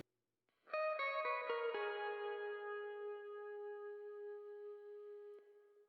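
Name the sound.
clean guitar with reverb and delay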